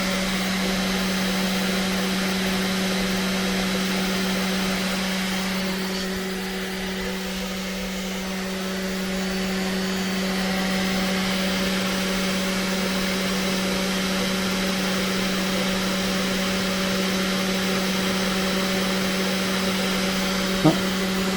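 Sainsmart Genmitsu CNC 4040 Pro spindle with an aluminium casing runs steadily in a shop, a continuous whining hum with fixed tonal lines, loud and unbroken, with one faint click near the end.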